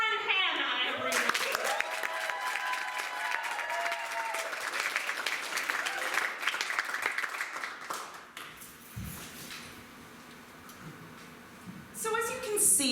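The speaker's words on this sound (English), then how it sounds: "give the best round of applause you've ever given" Live audience at a student stand-up comedy showcase breaks into loud, sustained applause and clapping for a comedian, the sound swelling then fading to scattered claps before a voice begins to speak near the end.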